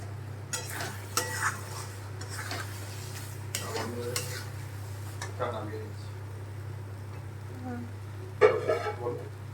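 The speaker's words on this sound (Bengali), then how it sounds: "আর এইদিকে তো চাও বসিয়ে দিয়েছি চা ফুটছে" Tea with ginger and tea leaves boiling in a pot on the stove, a low bubbling sizzle under a steady hum with utensil clinks and stirring, while a person talks intermittently.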